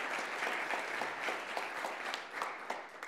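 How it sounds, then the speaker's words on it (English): A live audience applauds during the closing remarks of the EUROUT 2022 event, steady dense clapping filling the hall throughout with no speech over it. "Yes, please applaud both of them."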